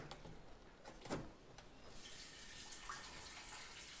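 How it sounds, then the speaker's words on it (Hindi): Water from a semi-automatic washing machine drains in a steady, moderately loud hissing rush that begins partway through, preceded by a few brief clunks and splashes. "अभी ये पानी को हम ड्रेन कर देंगे।"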